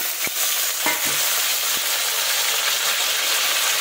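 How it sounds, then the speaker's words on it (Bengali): Taro and potato frying in a pan of hot oil with panch phoron, a loud, dense, continuous sizzle up close, broken by a few soft stirring knocks near the start, with no talking. "তেলের মধ্যে একটুখানি পাঁচফোড়ন দিয়ে দিয়েছি, দিয়ে কিন্তু আমি কচু আলুটা দিয়ে দেবো"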